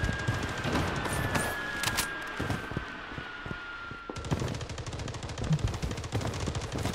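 Gunfire in the shooter game Blood Strike: rapid bursts of automatic fire crackle in quick succession, with a steady, close stream of shots and a brief pause before a final dense volley.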